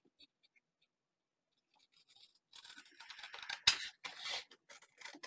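Scissors trim the excess white paper off a large journal card, with faint snips at first and then a denser, louder run of cutting and rustling up close.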